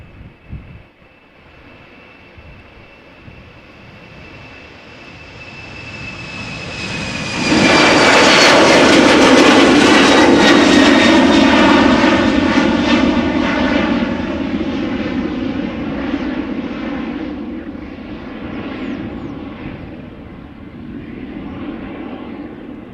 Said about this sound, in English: the first one after this Embraer is going to be a 777 by the looks of it. Emirates